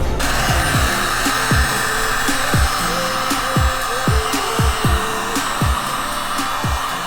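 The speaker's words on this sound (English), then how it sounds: "you can go through the extra effort of using a heat gun" A heat gun warms a banner decal on a BMW E36 windshield, blowing with a loud, steady roar and a run of sharp clicks and taps across it.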